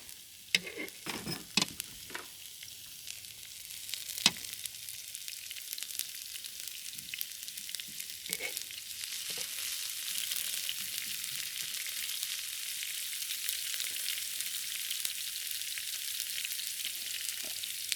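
Beef with bean sprouts stir-frying in oil in a pan, a few sharp utensil knocks at first giving way to a steady, even sizzle that holds for a long stretch, close and moderately loud, no talking.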